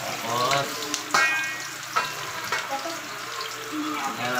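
Marinated pork limpo is sautéed in a hot pan with a loud, steady frying sizzle, broken by a few sharp clanks and scrapes of a spatula close by.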